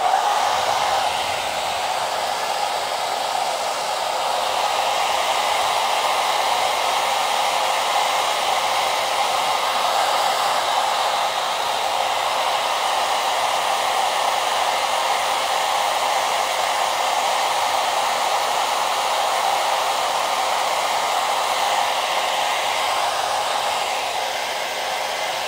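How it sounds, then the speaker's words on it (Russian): A hair dryer blows continuously with a steady, loud whooshing hiss that holds unchanged throughout, drying chrome-effect nail polish. "Вот берем самый обычный фен."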